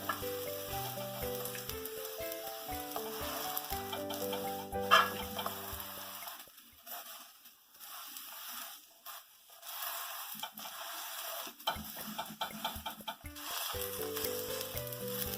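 Flipped breakfast cooking in butter on a pan sizzles steadily, with a sharp clack partway through, then the frying drops to a quieter stretch before the hiss and spatula sounds build again; nobody speaks.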